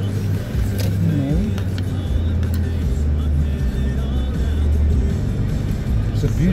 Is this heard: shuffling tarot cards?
no